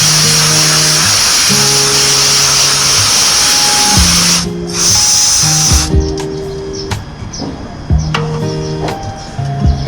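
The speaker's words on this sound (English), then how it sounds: "Take the brake cleaner," Brake cleaner sprayed from an aerosol can onto an old brake disc of a Kawasaki Ninja ZX10R motorcycle, a steady loud hissing spray lasting several seconds with short pauses, accompanied by faint tonal whines and clinks nearby.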